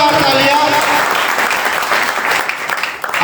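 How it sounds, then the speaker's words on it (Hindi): An audience at a Jain poetry gathering gives loud, sustained applause, a dense, steady wash of clapping close up that tapers slightly at the end. "एक बार अपनी तालियों की बरसात कर लीजिए, जोरदार तालियां"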